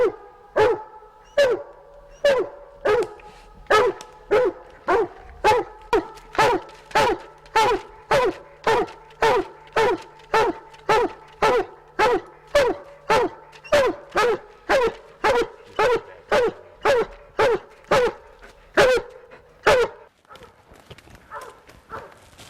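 A Treeing Walker coonhound bays at a tree, about thirty loud, close chop barks in a steady, evenly spaced rhythm before stopping abruptly near the end.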